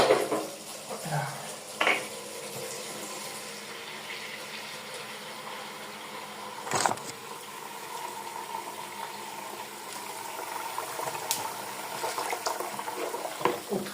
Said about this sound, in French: le temps que je puisse prendre une bassine avec de l'eau très chaude